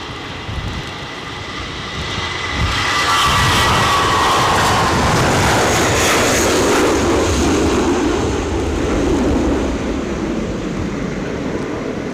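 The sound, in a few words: aircraft at Edinburgh Airport during Storm Floris winds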